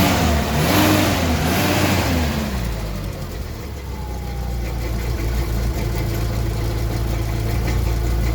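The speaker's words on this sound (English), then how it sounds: "And the engine right now is not running that bad." A car engine that has been lacking power runs steadily and loudly close by, with a brief rise in pitch near the start before settling into a constant hum.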